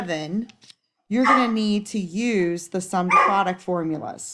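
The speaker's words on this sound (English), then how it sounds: "Sorry for my dog barking at another dog." A house dog barks at another dog somewhere behind a person explaining a math problem, the barks faint and masked by close, continuous talk.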